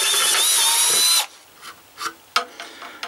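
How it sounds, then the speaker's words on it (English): A power drill enlarges holes in willow wood with a loud, close, steady whine for about a second, then stops, followed by a few faint knocks and scrapes of handling. "The holes are too small. Let me just enlarge them."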